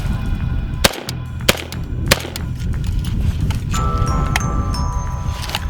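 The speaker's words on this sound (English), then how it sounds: "Three shots." An AK-47 rifle fires three sharp, evenly spaced shots, each a crisp crack over steady outdoor background noise.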